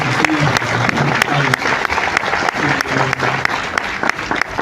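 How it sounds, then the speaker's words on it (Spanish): Steady applause fills a hall at a book fair tribute event in Guadalajara, a dense, even patter of many hands with occasional sharper claps and faint voices underneath. "Palmas para las palabras."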